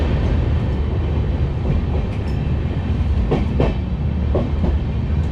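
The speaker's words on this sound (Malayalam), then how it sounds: "നമ്മളങ്ങനെ വഡോദര ജംഗ്ഷൻ റെയിൽവേ സ്റ്റേഷനിലേക്ക് എൻട്രി ചെയ്തുകൊണ്ടിരിക്കുകയാണ്" Sleeper-class coaches of an express train rolling into Vadodara Junction station, a steady loud rumble with rhythmic wheel clatter and a few sharper clanks over the joints, heard from on board.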